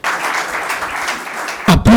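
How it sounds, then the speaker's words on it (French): Sustained applause from staff at a meeting with a new management committee, a dense steady clapping for most of the moment before a speaking voice cuts in at the end. "Applaudissements nourris"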